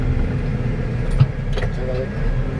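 Caterpillar D3K2 bulldozer travelling and changing speed, a steady low diesel engine drone close by with a brief knock, under someone talking.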